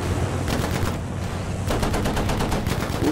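Sustained automatic gunfire in Battlefield 5, rapid repeated shots in dense bursts filling the whole stretch, loud and close with no pauses.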